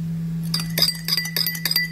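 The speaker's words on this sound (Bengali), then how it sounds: "এবার দইটা চামচের সহায়তা ফাটিয়ে নেব।" A metal spoon clinks rapidly against a bowl as yogurt is beaten, giving a string of bright, close ticks over a low steady hum, with no voices.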